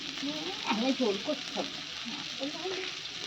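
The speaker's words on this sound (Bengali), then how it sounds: "মাছটা না আমি এখানে ভেজে নিচ্ছি" Fish sizzles as it fries in a pan, a continuous moderate frying hiss heard up close, with a voice talking over it.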